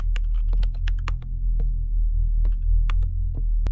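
Clicks of typing on a child's laptop keyboard in a video game, irregular and close, come in quick clusters and scattered single taps over a steady low hum.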